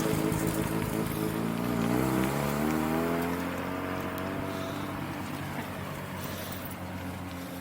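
A Toyota Supra or Mazda RX7 works its clutch, heard as a loud, close engine drone whose pitch rises, then slowly settles and fades slightly.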